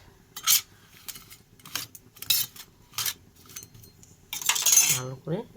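Small hilsa fish being mixed by hand with salt and turmeric in a metal dish, a series of close, bright, wet scraping and clinking bursts spaced irregularly, with a brief murmur near the end.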